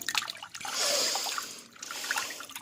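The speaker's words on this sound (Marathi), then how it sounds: "तुरटी मी आता पाण्यामध्ये मिक्स करणार आहे" Alum is stirred into water for cleaning a fridge, giving a soft, faint trickling and sloshing that swells for a moment, then fades before picking up briefly again.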